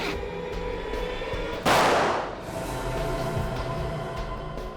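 A single sharp gunshot bursts out loud and close in a tense indoor drama scene, its broadband blast fading quickly over a steady low background hum.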